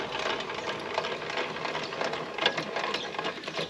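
A caravan's corner steadies are wound down by hand at a campsite in Cygnet Bay, producing a continuous whirring, ratcheting mechanical rattle with steady rhythm at close range.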